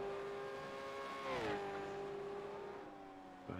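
Several simulated race cars in iRacing crossing the finish line, a steady engine drone with one car's pitch sweeping down as it passes close by, then a fainter engine tone carrying on.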